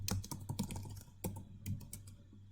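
Someone types on a computer keyboard in quick, close clicks, a fast run of keystrokes with short pauses, faint and heard alone, while entering library code in RStudio.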